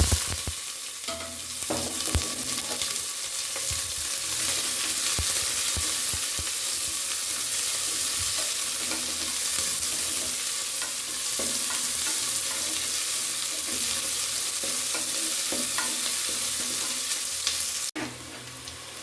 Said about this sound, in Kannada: ಎಣ್ಣೆ ಬಿಸಿಯಾಗಿದೆ ಸಾಸಿವೆನ ಹಾಕ್ಕೊಳ್ತಾ ಇದ್ದೀವಿ ಸ್ವಲ್ಪ ಇವಾಗ ಈರುಳ್ಳಿಯನ್ನು ಹಾಕ್ಕೊಳ್ಳೋಣ